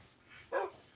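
A cartoon dog in a Minecraft game lets out one short, faint bark in an otherwise quiet moment.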